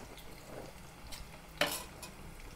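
Onions fry in a pan with a soft, steady sizzle, broken by a few scraping stirs and one sharper clatter of the spoon against the pan.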